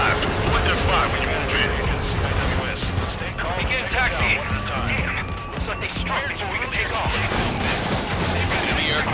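Dense rolling anti-aircraft barrage from an enemy naval fleet in the Ace Combat 7 video game, a continuous loud rumble of cannon fire and explosions under steady game voices.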